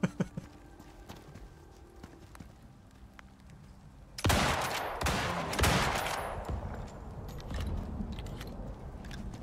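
Gunshots in the Icarus video game, a sudden loud blast followed by further sharp cracks over a rustling background, with no speech.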